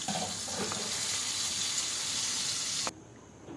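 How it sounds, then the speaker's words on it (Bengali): Raw banana pieces frying in oil in a pan, giving a steady bright sizzling hiss with a few faint crackles that cuts off abruptly near the end, with no talking. "কাঁচা কলাটা আমার ভাজা শেষ এখন আমি তুলে ফেলবো"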